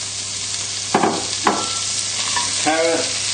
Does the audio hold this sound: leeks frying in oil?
yes